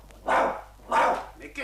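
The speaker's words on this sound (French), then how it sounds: "Mais retenez votre chien, il va encore me mordre." A dog barks twice, loud and close, in a tense night-time scene with two sharp, full barks and a fainter yip at the end.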